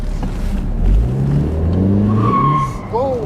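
A Chrysler PT Cruiser Turbo convertible accelerating hard, its engine note rising loud and close as voices exclaim over it.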